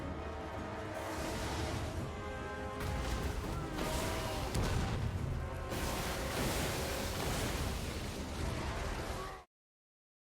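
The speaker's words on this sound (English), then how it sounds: "You, get on your demolisher cannons." Demolisher cannons firing in Warhammer 2: Total War, a heavy battle mix of booming artillery blasts and crashing impacts layered over dense game noise, continuous and loud throughout before cutting off abruptly.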